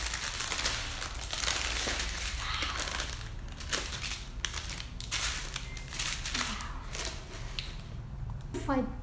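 Colorful paper packaging for diamond-painting rhinestones crinkled and handled up close in irregular rustling bursts, while a person talks over much of it.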